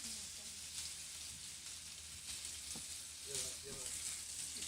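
Food fries in a pan in a radio studio, giving a faint, steady sizzling hiss with soft crackles and a murmuring voice in the background.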